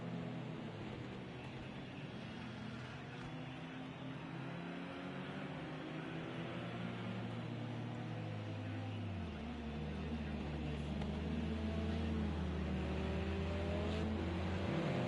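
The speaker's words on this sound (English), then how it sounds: "Our cars just warming their tyres up here" Touring cars warm their tyres on track at Donington GP during a pre-season championship session, a steady engine drone that holds through, dropping in pitch about midway and swelling slightly louder toward the end.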